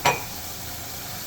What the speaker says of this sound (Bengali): আর এদিকে মশলাটা ফ্রাই হচ্ছে